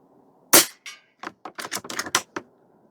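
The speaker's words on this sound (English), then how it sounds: "We'll shoot these 6 rounds" An Air Venturi Avenge-X .22 caliber airgun fires outdoors with one sharp, close crack. A quick run of smaller snaps and clicks follows in an irregular burst.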